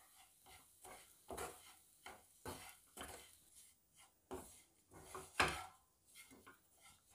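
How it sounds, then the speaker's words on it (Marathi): A spoon stirs and mixes the filling for stuffed chillies (bharli mirchi) in a bowl, with soft irregular scraping and clinking strokes, several sharper knocks among them, quiet and close with no speech. "हे सगळे जिन्नस चांगले मिक्स करून घ्यायचे आहेत."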